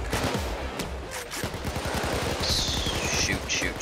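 Rapid gunfire during a police assault in the video game Payday 2 rattles as a steady stream of close shots, with a brief whine late on and no talk over it.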